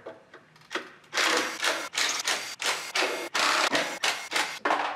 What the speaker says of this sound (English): Next, we go around the timing belt cover and remove all the 10-millimeter bolts.